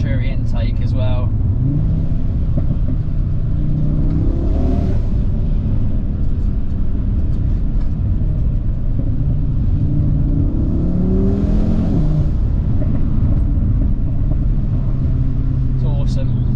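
Audi RS3 8V2 fitted with an RS Sports exhaust, particulate filter and Venturi intake, its engine droning loud and close, swelling in two rev rises around five and twelve seconds, with brief speech at the start and end.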